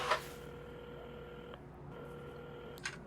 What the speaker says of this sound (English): at the counter, Carmen had started dialing the phone